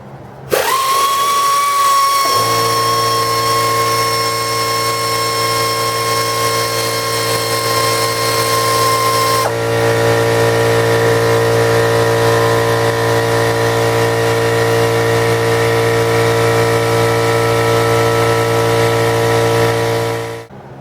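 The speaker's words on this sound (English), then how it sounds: "Sorry about the air compressor noise." An air compressor in a garage, running during a brake pad and rotor job on a 1996 Blazer, drones continuously with a loud, steady mechanical hum and whine; its pitch shifts and settles partway through before it cuts off at the end.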